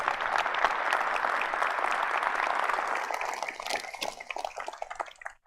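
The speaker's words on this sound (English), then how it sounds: "let's give Eric a round of applause." Steady applause from the audience at a city State of the City address, a full wash of many hands clapping that gradually thins out and breaks into scattered claps near the end.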